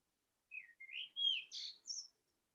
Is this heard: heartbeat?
no